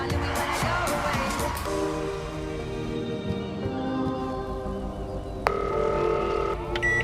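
A phone is dialed in the video game GTA V, with short tonal beeps over a busy game soundscape of city noise and music, followed by a sustained tone near the end.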